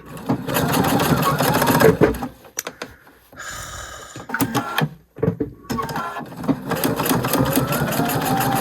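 A Pfaff sewing machine stitching rail fence quilt blocks, with fast rattling bursts of stitching broken by short pauses and small clicks, close and loud, without talk.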